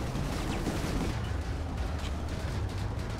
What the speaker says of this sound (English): There's a gal shooting at us.